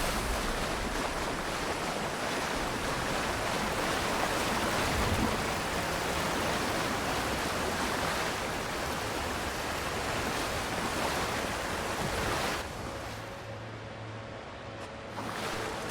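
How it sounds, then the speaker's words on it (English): Steady, broad rushing roar of a waterfall in the fantasy game Avowed, constant and close for most of the span, then dropping softer near the end, with no talk. "It's behind this waterfall, huh?"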